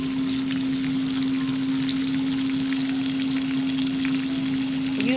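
Hamburger steaks fry in a pan with a steady, close sizzle that holds evenly throughout, with a constant hum running underneath and no one speaking.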